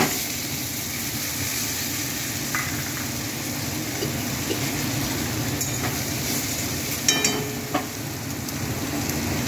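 Boiled mung dal dropped into hot oil, giving a loud, steady frying sizzle close by, with a few brief clinks of a utensil toward the end and no speech.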